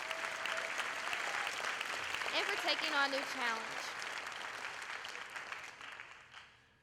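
Audience clapping for state officer candidates at a 2015 Arkansas 4-H O-rama campaign rally fills the room, with a speaker talking over the steady applause before it fades out near the end.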